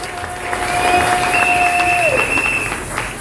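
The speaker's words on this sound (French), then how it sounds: "Acclamons le Seigneur Jésus." A church congregation applauds and cheers for the Lord Jesus during a French-language worship service: dense, steady clapping and crowd noise fill the whole stretch, with a thin sustained whistle-like tone riding over it.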